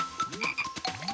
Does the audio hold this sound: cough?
no